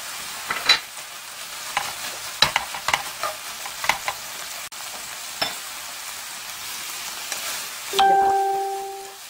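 Scallions laid on seasoned, scored pork neck cook in a pan with a faint sizzle and scattered utensil scrapes and taps, ending with a louder clatter and a tonal ring.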